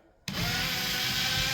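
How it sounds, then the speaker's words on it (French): Power drill fitted with a 67 mm hole saw cutting through plasterboard, a steady close grinding whir that starts abruptly and runs evenly without pause. "vous avez la scie cloche de 67 de diamètre"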